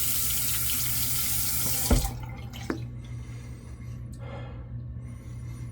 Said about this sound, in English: let's get this razor wet and get the shave going